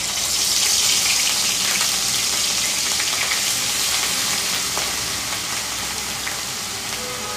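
Onion and ginger paste sizzles loudly in a hot kadai for a cheese-stuffed raw banana kofta curry, a steady, close hiss of frying that holds nearly constant and runs without any talk.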